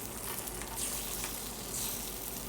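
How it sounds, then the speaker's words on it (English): Scrambled eggs sauté in an oiled pan for combination fried rice, giving a constant, even sizzle close to the listener with a few faint stirring touches and no voices. "And then we are going to scramble the eggs and saute them in the pan."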